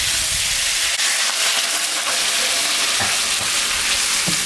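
Water poured onto fried spice paste for a rui fish curry sets off a loud, steady hiss and sizzle in the pan, continuous throughout with a few soft clinks, no voices.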